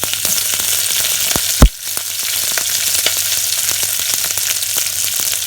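Mustard seeds and onion frying in hot oil for a Sri Lankan dal curry, giving a steady close sizzle with one sharp loud crackle burst early on, then continuing evenly.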